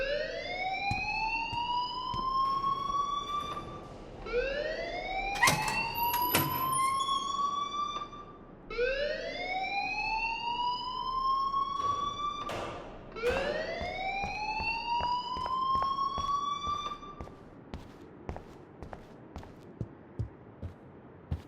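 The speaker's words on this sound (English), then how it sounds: "please turn off that alarm since that's your job" An alarm in Life Is Strange wails in repeated rising sweeps, about four long cycles, loud and continuous, with scattered clicks and thumps around it before it stops.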